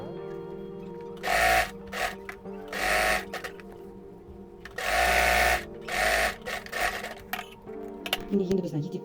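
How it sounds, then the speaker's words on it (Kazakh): A sewing machine stitches one side of a girls' apron in several loud, whirring bursts of rapid needle chatter separated by pauses, with a voice speaking between runs. "Бірінші бір жағын тігіп аламыз."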